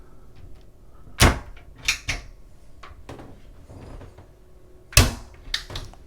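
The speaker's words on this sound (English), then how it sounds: "Drawers underneath here." Cabin drawers and cupboards on a Sunseeker Ocean 156 superyacht open and shut in a few sharp, close clunks and knocks. Two clusters of clunks are separated by quiet, faint room noise.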